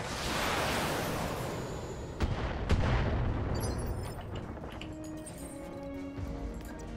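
Mech weapons fire in the Battletech video game, a couple of sharp heavy blasts around two to three seconds over a dense rumbling roar, then fading into a quieter tail.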